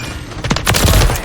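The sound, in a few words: gunfire in video game Call of Duty, Shipment map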